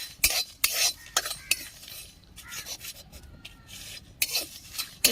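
Cumin seeds and dried red chillies dry-roasted without oil in a pan, stirred with a utensil in irregular scraping, rattling strokes between quieter moments.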